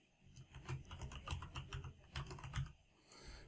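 Someone types on a computer keyboard while entering data into a spreadsheet, producing a steady run of rapid, soft keystroke clicks, faint and close, with a brief pause near the end before tapping resumes.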